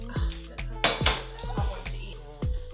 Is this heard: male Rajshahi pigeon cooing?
no